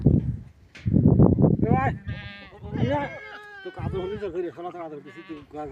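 Goats bleat loudly and repeatedly inside a shed, several wavering cries overlapping close by, with a person talking intermittently among them.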